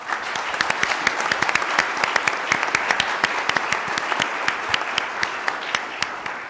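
Audience applause at South Texas College of Law during a Houston mayoral candidate forum, a steady dense clapping from a crowd that fills the room and holds at an even level throughout.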